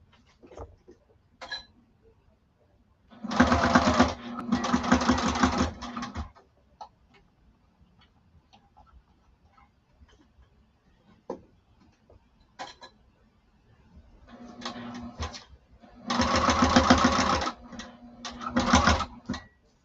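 Sewing machine stitching a lining over a bulky seam, two bursts of steady mechanical whirring separated by quiet handling noise, fairly close.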